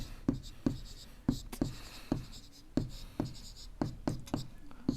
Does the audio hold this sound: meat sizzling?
no